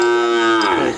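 A cow lets out one loud, close moo that lasts about a second, with a rich droning tone and no other sounds around it.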